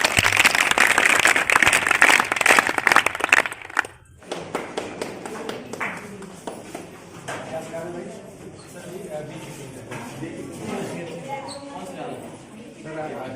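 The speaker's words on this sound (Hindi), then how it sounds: "आप लोग तालियां बजाकर सर का स्वागत करें।" An audience claps to welcome a guest at a rural training event. Loud, dense applause for the first few seconds cuts off abruptly, followed by scattered light taps and quiet murmuring.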